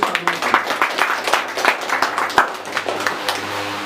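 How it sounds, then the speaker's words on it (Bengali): A small gathering at a village organisation's office inauguration claps for guests, with distinct, loosely rhythmic hand claps from a few people close by, thinning out toward the end. "আমরা তাদেরকে একটা করতালি দিয়ে"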